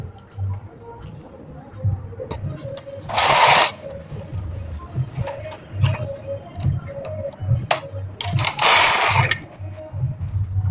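A knitting machine runs a row of a half-sleeve sweater, with two loud rasping sweeps of the carriage along the needle bed set among lighter mechanical clicks and ticks, all close by.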